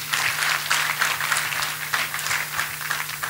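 A church congregation claps together at a testimony service, a steady, dense patter of many hands that holds at an even level for several seconds with no voices over it.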